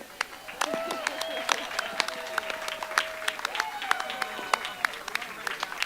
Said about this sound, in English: stand and we can applaud for their 50th reunion